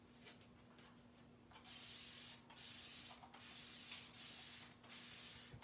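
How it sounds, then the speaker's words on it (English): Several short hissing bursts of a spray bottle misting water onto a silk screen to keep the ink wet, close by, separated by brief pauses. "I'm just gonna spray some water on here to keep that ink wet"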